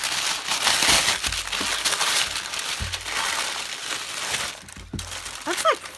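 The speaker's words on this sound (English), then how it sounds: "you can hear how much different that is from regular tissue paper" Thick tissue paper from a Strickplaner knitting planner being crinkled and crushed by hand, a close, continuous rustling with sharper crackles in bursts and no talking.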